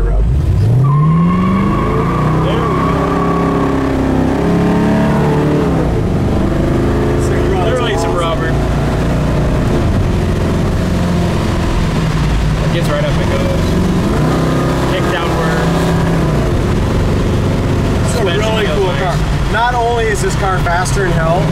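A 1972 Chevy Nova with larger front tires drives down the road, its engine droning and rising in pitch through the gears, while someone talks over it nearly the whole time.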